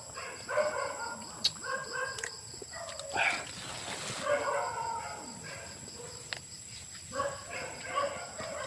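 Dogs barking at night somewhere outdoors, a few short scattered barks at middle distance, with a rooster crowing and birds in the background.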